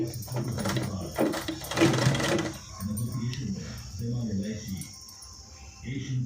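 A sewing machine stitches a designer blouse, its fast mechanical whir strongest in the first couple of seconds, then running quieter beneath steady talking.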